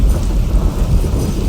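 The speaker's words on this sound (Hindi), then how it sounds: "लगता है बारिश ज्यादा होने वाली है।" Steady heavy rain with a low rumble of thunder in a stormy outdoor scene from a dubbed South Indian action film, dense and continuous throughout, with wind noise and no voices.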